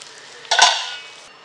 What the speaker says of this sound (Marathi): हे सर्व मी आता सर्विंग प्लेटमध्ये काढून घेते.